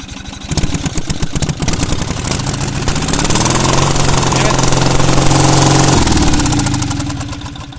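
A hard-starting engine, just fitted with reworked muffler, cranks in a quick pulsing rhythm, then catches and runs with a steady, loud, rough idle that swells before easing off near the end.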